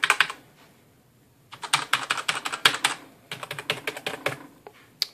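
Typing on a GIGABYTE Aivia Osmium mechanical keyboard: quick bursts of crisp, clacky keystrokes, close and loud, broken by a pause of near silence before resuming in rapid runs.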